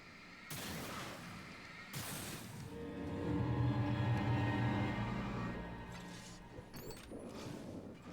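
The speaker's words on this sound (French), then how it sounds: "Fusil de chasse." Hunting shotgun fire in Alan Wake Remastered: two heavy blasts near the start, followed by a crashing, rumbling burst and scattered impacts amid game noise, with no talking.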